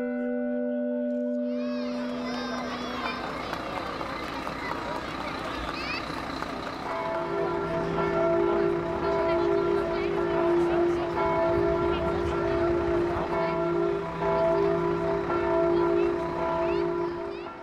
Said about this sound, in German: dürfen die Glocke erklingen lassen